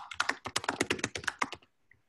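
Rapid typing on a computer keyboard, a quick irregular run of close clacking keystrokes for about a second and a half, then stopping into near silence.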